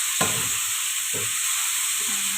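Chicken frying in a pan under a constant hiss, as a utensil scrapes and stirs three times at roughly one-second intervals. No one speaks.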